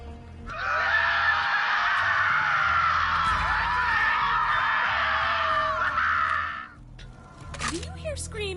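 Sustained, piercing human screaming in the video game Borderlands 3, loud and continuous for several seconds before cutting off, followed by quieter game sounds and a short sharp cry.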